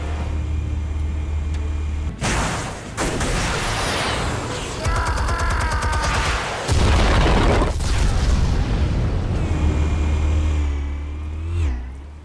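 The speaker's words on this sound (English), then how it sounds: "Explosives armed. Fire when ready." Explosives detonating in a Batman video game: a string of loud, near booms and bursts over a constant low rumble, with crackling debris between blasts and a final heavy roar.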